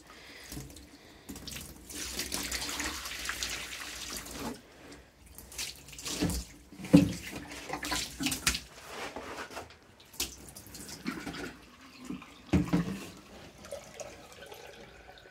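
Water is poured onto a slatted floor in a brooder for ducklings and goslings to test drainage, a steady close splashing and trickling stream with a few louder surges and brief pauses over about fifteen seconds.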